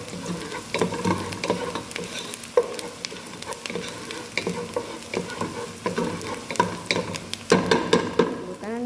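Chicken and onion frying in a pan, a steady sizzle with repeated scraping stir strokes and clicks of a utensil throughout, close and fairly loud, no talking.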